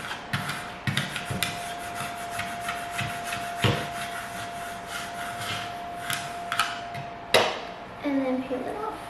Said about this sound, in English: Then I'm going to take my scraper and just go over it.